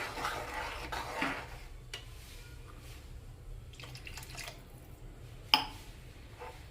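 Paneer butter masala gravy thinned with water is stirred in a pan, giving soft wet sloshing and squishing with a sharp clink of the spoon near the end.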